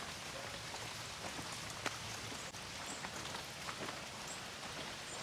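Light rain easing at a spring resort, a faint steady patter of drops on surfaces with an occasional louder drip, quiet and unbroken throughout.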